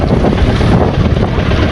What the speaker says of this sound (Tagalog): malalaki yung mga alon